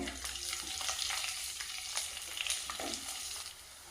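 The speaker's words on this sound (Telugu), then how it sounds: "పప్పు కలర్ మారేదాకా ఫ్రై చేయాలి అలానే ఇందులో పచ్చిమిరపకాయలు వేసుకోవాలి" Urad dal and green chillies frying in a pan for sabudana khichdi, soft crackling sizzle with light stirring scrapes, quiet and close, fading slightly at the end with no voices.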